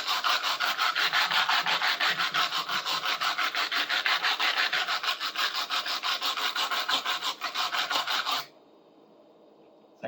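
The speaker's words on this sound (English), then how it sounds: "I can start using the knife and scraping it off." A knife scrapes hardened tar off the face of a four-in-hand rasp in rapid, steady back-and-forth strokes. The gritty rasping is loud and continuous for about eight seconds, then stops and leaves quiet.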